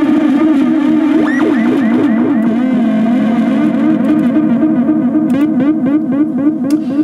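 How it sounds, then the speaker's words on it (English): A dub siren synth drones loudly as feedback stretches its echo into a long run of repeating, smearing warbles that pile up and blur together without any break. "If we use some feedback, we can start to extend that echo."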